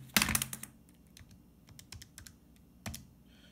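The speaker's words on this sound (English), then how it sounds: "We'll type this in the calculator." Calculator keys are tapped close by, first in a quick burst of clicks, then slower scattered presses and a final firmer press.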